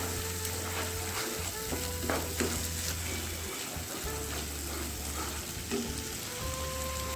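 Nut paste stirred and fried in a pan for an egg kurma, a steady close sizzle with scraping spoon strokes over a low continuous hum, no one talking.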